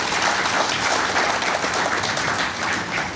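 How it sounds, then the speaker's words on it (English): Audience applause for sponsors at a live-streamed African Plant Breeders Association event, a dense, steady clapping that fills the room at full strength throughout with no voices over it. "We can give them a round of applause."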